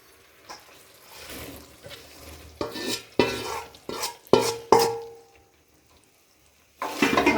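Mawa is stirred into hot sugar syrup in a pan, making a series of sharp scraping, clinking strokes with a soft sizzle. The strokes come close and fairly loud, then stop into near silence before a last burst of stirring.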